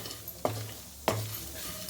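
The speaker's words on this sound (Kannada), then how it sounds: "ಎಲ್ಲ ಮಸಾಲೆ ಹುರಿದಿದ್ದಾಯಿತು." Spices being dry-roasted and stirred in a pan, with two short scraping stirs against the metal over a faint continuous sizzle, close and quiet.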